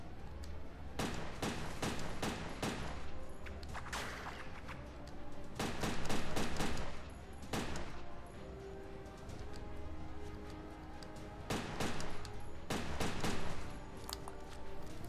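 Repeated bursts of video game gunfire in Headhunter, sharp volleys of shots at a barrel in clustered rapid strings with short gaps between them, loud and close with no talking.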